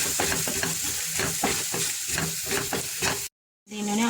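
Chili powder and coriander powder fry in a hot pan for gobi manchurian, with a steady close sizzle broken by repeated stirring scrapes, then a brief cut to silence before the sizzling resumes.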